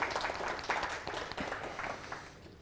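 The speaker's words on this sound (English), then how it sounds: "If we could get a round of applause for our sponsors." Audience applause for sponsors at a tech user group meetup in a venue, a moderate, slightly distant burst of clapping from a crowd that tapers off over a few seconds.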